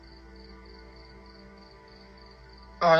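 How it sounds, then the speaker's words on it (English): Crickets chirp outside at night in a faint, steady trill repeating evenly in the background, with a louder brief burst of other sound cutting in at the very end. "you can hear like the frogs and the crickets outside"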